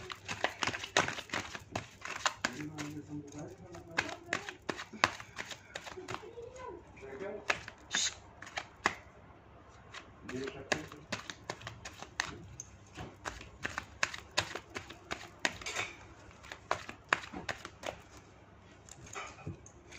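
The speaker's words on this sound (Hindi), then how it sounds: "मैं कार्ड हमेशा सामने से ही शफल कर रही हूँ।" Tarot cards shuffled by hand, face-up, in a run of quick papery riffling clicks and flutters throughout, with a voice speaking at times over them.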